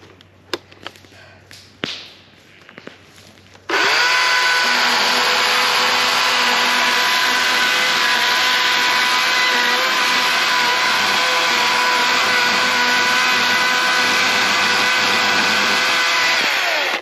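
A battery-powered Husqvarna chainsaw cutting a tree starts after a few scattered knocks and then whines loud and steady at high speed, close by and unbroken for the rest of the stretch.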